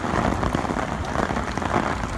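Heavy rain pours in Dubai, a loud dense roar of drops beating on surfaces close by, steady and unbroken throughout the short stretch with no voices.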